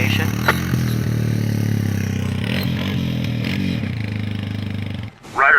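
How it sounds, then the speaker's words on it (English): A small ATV quad engine drones nearby, rough and steady with some uneven revving and clattering, then cuts off abruptly near the end. "I got a disturbance call about your loud motorcycle"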